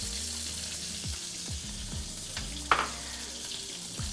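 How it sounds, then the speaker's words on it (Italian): Butter melts and sizzles in a pan for dressing ciarsòns dumplings, a steady close crackling fry with a brief utensil clink partway through and no talking. "dobbiamo far sciogliere il burro per condirli"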